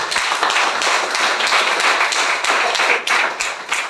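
A church congregation claps steadily together in dense, continuous applause for the whole stretch, with individual sharp claps standing out throughout and no voices above it.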